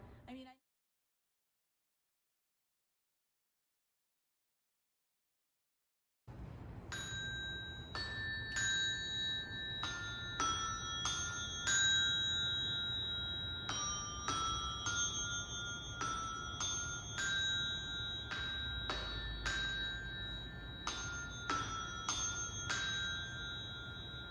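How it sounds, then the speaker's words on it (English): Small tuned Montessori bells are struck one after another in a slow, irregular sequence of bright, ringing tones that sustain and overlap, heard close up in a quiet room after a silent start. "I just learned how to use the bells"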